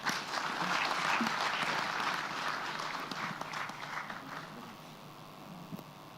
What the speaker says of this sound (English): let's give Amakole one more round of applause